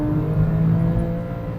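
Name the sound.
2009 Porsche 911 Carrera S engine with muffler delete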